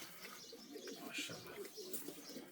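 Pigeons coo softly and continuously, a low burbling murmur with occasional faint chirps, close by and steady throughout.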